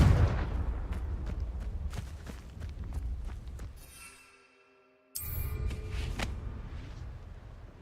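Confringo blasting spell cast in the game Hogwarts Legacy: loud fiery bursts and impacts repeat through the first seconds, fade into a quiet pause, then a sharp blast cuts back in with dense rumbling.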